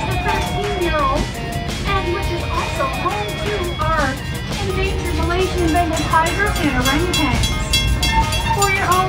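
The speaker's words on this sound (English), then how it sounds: "please remain seated until this train comes to a complete stop" The Busch Gardens park train in Florida rumbles along steadily while a loud announcement voice plays over the rolling rail noise throughout.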